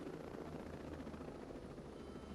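A helicopter flies in Ghost Recon Breakpoint, giving a steady, low, pulsing rotor drone that stays faint and continuous throughout.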